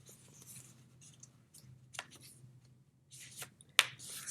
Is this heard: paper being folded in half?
yes